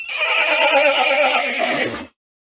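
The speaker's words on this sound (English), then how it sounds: "The horse hove past a foot from his face and went hammering down the bay and turned and stood." A horse whinnies loudly and close inside a dark barn bay, one long shaky neigh lasting about two seconds before cutting off to silence.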